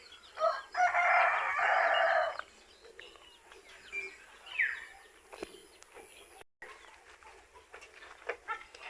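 A rooster crows once on a small farm, fairly loud and nearby, followed by quieter scattered clucks and outdoor background noise.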